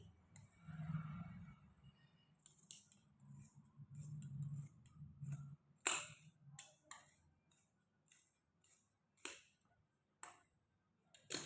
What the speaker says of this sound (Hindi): दूसरी बाजू का भी हम इसी में से काटेंगे ऐसे करके